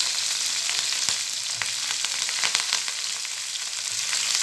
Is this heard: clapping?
no